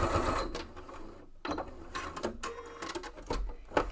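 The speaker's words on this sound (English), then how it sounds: "run a row of stitching across the raw edges" A sewing machine runs a row of stitching across the raw edges of a backpack strap with the ring hardware on, a close, steady mechanical whirr with brief pauses.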